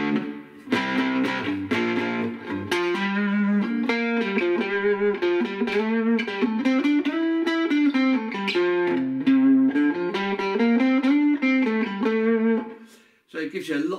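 Cigar box guitar on a short 22-inch scale, played through an amp's 70s channel with low gain, a compressor and plenty of reverb, rings out in a steady sustained melodic line with long washy tails, loud and up close.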